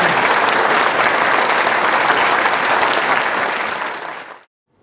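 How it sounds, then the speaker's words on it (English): A convention crowd applauds at a furry convention's opening ceremony, dense loud clapping sustained for about four seconds before cutting off abruptly. "A round of applause for Kyle, please."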